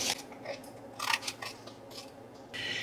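Scissors trim paper for a junk journal page, a series of short, close crisp snips and slicing rasps in an uneven rhythm with no talking.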